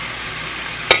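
Spicy pork bulgogi frying in a pan, a steady close sizzle for about a second, ending in a brief sharp clatter or stir.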